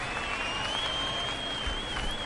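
An ovation fills the hall at a New Year gala concert in Batumi, a steady, distant wash of many hands clapping beneath a thin sustained whistle-like tone, even and unbroken throughout.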